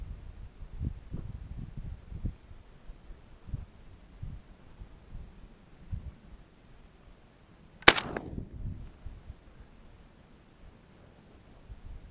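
A single loud, sharp blast from a JTS 12-gauge shotgun fired at a target range, standing alone against quiet outdoor background with faint thumps before it and a brief decaying tail after.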